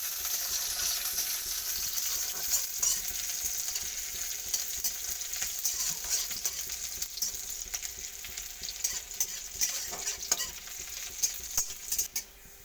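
Cumin seeds, chopped garlic and onion fry in a pan with a constant bright sizzle, and stirring clicks and pops grow more frequent toward the end. No one speaks.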